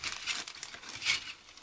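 Thin plastic bag crinkles and rustles softly as model kit sprue parts for a C-47 Skytrain slide out, a steady close crackle with a brighter burst near the middle.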